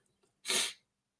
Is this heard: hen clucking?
no